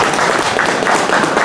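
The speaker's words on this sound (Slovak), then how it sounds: "Myslím, že si to zaslúži malý potlesk." Guests at a book launch for a thriller break into brief, dense applause, a steady burst of many hands clapping close by.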